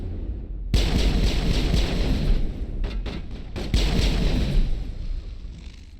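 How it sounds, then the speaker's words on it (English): Heavy explosions and gunfire in a Mass Effect battle, loud continuous booming blasts with sharp bursts layered over a dense rumble, no voices. "Lots of things seem to be exploding"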